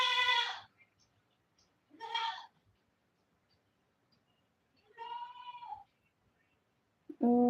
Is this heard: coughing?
no